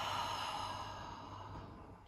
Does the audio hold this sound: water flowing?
no